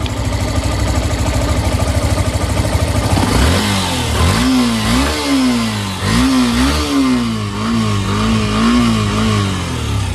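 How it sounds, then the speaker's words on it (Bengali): A secondhand car's engine runs steadily, starting as a smooth idle and then rising and falling through several quick revs after a few seconds, loud and close with no voices. "আমরা এখন এই গাড়িটির ইঞ্জিন সাউন্ড শুনবো"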